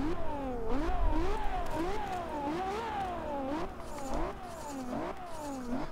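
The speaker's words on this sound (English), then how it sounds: "Oh yeah, this car sounds angry." A high-pitched Ferrari F12berlinetta V12 engine in Forza Horizon 2 revs repeatedly, climbing and dropping in rapid sweeps as gears shift, loud and up close with a slightly synthetic tone.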